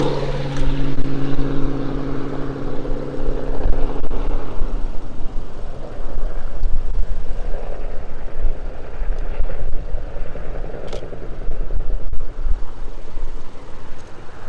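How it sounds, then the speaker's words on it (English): Helicopters fly past a wildfire, a loud, sustained rumbling drone that fills the air without a break and carries no voices. "I'm just snapping pictures of the helicopters as they come by."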